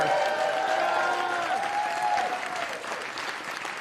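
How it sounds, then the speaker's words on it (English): An audience at a college state-of-the-college address claps steadily, a dense, even wash of applause filling the room and slowly tapering off, with no speech over it. "I'm going to need to hold your applause"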